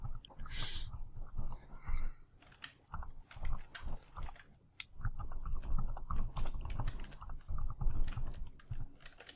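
Rapid typing on a computer keyboard, close and continuous, with bursts of clattering keystrokes and short pauses, no talk.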